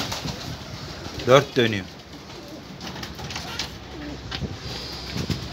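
Pigeons indoors flap their wings in a brief burst and coo, close by, while people talk over them.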